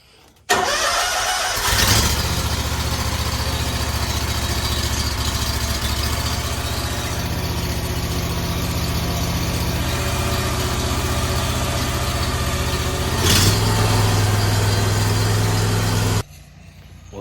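A John Deere lawn mower engine cranks and catches, then runs at a steady loud idle close by, with a brief surge near the end before cutting off.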